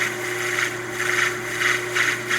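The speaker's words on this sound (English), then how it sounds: "it drills really easily and soft." A drill bit grinds into soft cast Alumilite resin in repeated scraping bursts over a steady motor whine, close up.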